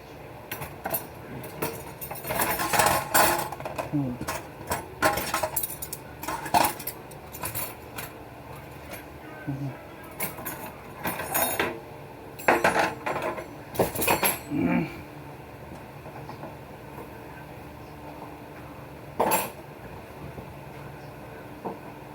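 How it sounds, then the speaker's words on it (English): Dishes being washed by hand, with cutlery and plates clinking in irregular bursts against a running-water background, close by, quieter toward the end. "I'm basically done doing dishes"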